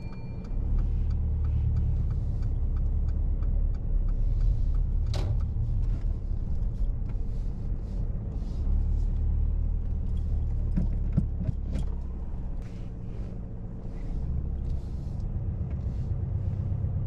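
A car rumbles low and steady while reversing slowly during a parallel parking exercise on a road, with occasional mechanical clicks and knocks from inside the vehicle and no talking.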